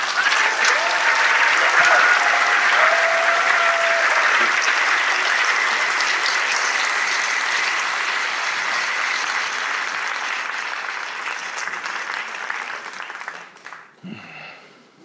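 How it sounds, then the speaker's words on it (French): Thunderous applause from an audience welcoming a speaker at a talk, dense and sustained for over ten seconds, slowly fading and breaking into scattered claps at the end. "Un tonnerre d'applaudissements pour Charles Maxence Layet."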